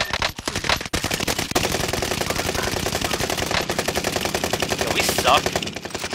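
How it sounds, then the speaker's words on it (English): Sustained rapid automatic gunfire in a shooter video game, loud and continuous, nearly unbroken across the whole stretch, with players talking over it. "Shoot the other guy in the air."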